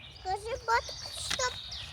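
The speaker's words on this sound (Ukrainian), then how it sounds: "Тут прям птахи співають, так приємно." Birds chirping and singing in short bright phrases nearby, with a low background hum.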